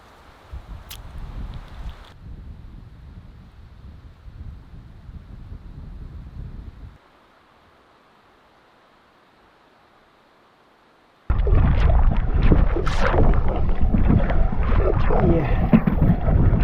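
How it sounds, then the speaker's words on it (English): Wind buffets the microphone while paddling a canoe on a lake in Algonquin, with gusty rumbling that drops to near silence partway through and then returns in a loud, rough roar. "it's windy in here."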